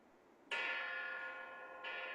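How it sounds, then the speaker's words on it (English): A bell rung on cue during a stage performance of Macbeth, a bright sustained metallic tone starting abruptly, ringing on, then struck again near the end, fairly loud with no voices. "Ring the bell."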